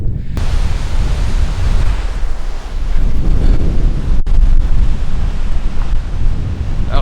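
Strong wind roars across an Icelandic beach, a loud, constant rush of noise with slight swells. It buffets the microphone hard and carries faint surf-like texture throughout.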